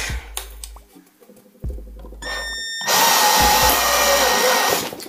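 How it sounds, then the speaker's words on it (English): A power drill with a step drill bit whines through wood in bursts, stopping and starting, then a louder, rougher grinding stretch as the bit cuts deeper, close by. "we will gently drill"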